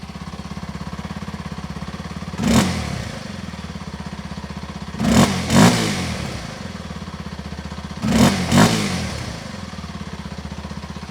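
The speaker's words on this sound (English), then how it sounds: "And now it's time to listen to the exhaust note of this motorcycle." A 2024 Kawasaki KLX 230 road-legal dirt bike idles with a steady, fast exhaust thump, then is revved in three short blips, one single and two double, each rising sharply and settling back to idle, close to the bike.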